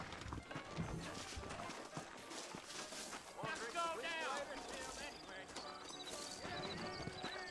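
Hooves clip-clop steadily at a trot with an occasional whinny in Red Dead Redemption, layered under busy music and talking voices.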